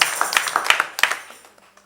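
A church congregation claps in praise during a Thursday worship service, a burst of sharp scattered claps that thin out and fade away over a couple of seconds.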